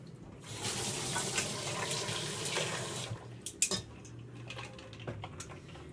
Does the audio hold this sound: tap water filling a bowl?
yes